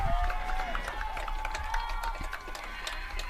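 Field hockey match crowd cheering and chirping at the Red Devils game against Chatham, a steady wash of voices, whistles and scattered shouts at moderate distance.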